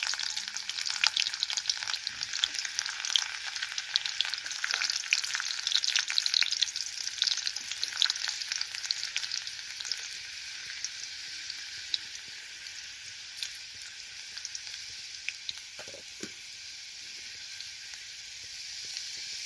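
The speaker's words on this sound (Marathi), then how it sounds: "लसूण चांगलं तळलं, थोडंसं लालसर झालं की आपण कांदा टाकायचा." Garlic frying in a little oil for a rustic greens dish, a steady bright crackling sizzle with fine rapid pops that holds throughout and eases slightly in the second half, close by with no talking.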